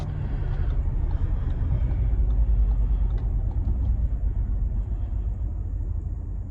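An Audi Q7 Premium Plus with a four-cylinder engine accelerating hard in a 0-60 run, heard as a loud, steady engine and road roar from inside the cabin with no talk.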